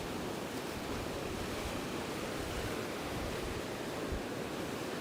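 Ocean waves at the old town of Chania on Crete make a continuous, even wash of surf noise with no distinct breaks, moderately loud and heard alone without speech.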